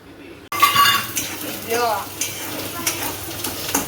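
Mustard seeds crackling in hot oil in a pan, with onion going in as it finishes: a sudden burst of sizzling and spitting, scattered pops and clinks of a utensil, and a voice speaking over the frying.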